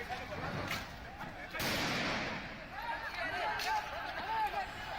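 Police fire several sharp cracking shots into the air amid a noisy protest crowd in Agra, India, during a Bharat Bandh strike, with shouting and chatter continuing underneath and between the bursts.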